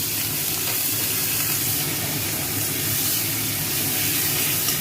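Tomato, salt, ginger paste and garlic paste frying in a pan, a constant dense sizzle and hiss held at a steady, fairly loud level throughout, close up with no talking.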